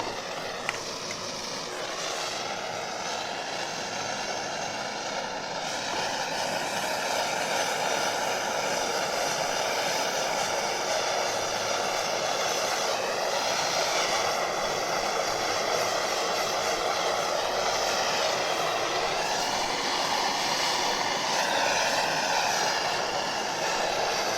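A blowtorch flame heats a length of PVC pipe, an ignition click followed by a steady, close, continuous roar that holds evenly throughout.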